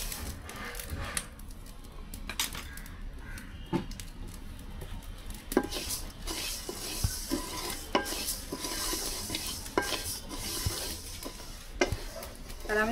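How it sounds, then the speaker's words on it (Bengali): Mung dal is fried in a hot kadai for vegetable khichuri, with a soft continuous sizzle and repeated sharp scrapes and clinks of stirring close by, without talk. "এখন আমি মুগের ডালটা ভেজে"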